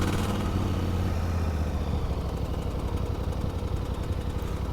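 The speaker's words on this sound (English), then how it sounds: "Let's turn on the engine." A Voge DS800X motorcycle from 2025 idling in neutral, a steady close low engine rumble with an even pulsing beat and a brief louder burst right at startup before it settles.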